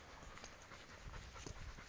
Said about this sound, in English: Okay, so he's having a sniff around.